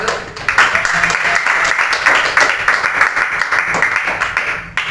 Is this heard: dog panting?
no